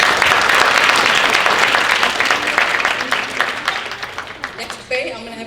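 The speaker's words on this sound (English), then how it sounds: "So why don't we get a round of applause to all the volunteers" Conference attendees applaud volunteers and partners in a loud, full round of clapping that gradually thins and tapers off into scattered claps near the end.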